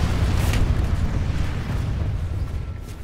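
A tank shot explosion in the game PlanetSide 2 booms loud and close, its deep rumbling roar rolling on and slowly fading away.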